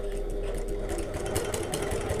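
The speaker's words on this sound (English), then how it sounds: "we're going to sew along this bottom edge using our top stitch stitch length" A sewing machine top stitches along the bottom edge of a bag pocket, about 1/8 inch from the edge. A steady, close mechanical whir hums without pause for the whole stretch.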